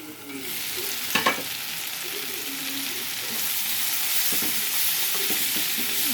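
Broad beans and tomato fry in oil in a pan, giving a steady close sizzle throughout with a couple of brief stirring scrapes, no talking.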